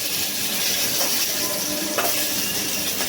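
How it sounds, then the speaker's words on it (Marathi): Garlic fries in hot oil, a steady dense sizzle with a couple of faint stirring knocks, close and continuous. "तेल त्याच्यात आपण आता ही लसूण टाकून घेऊया."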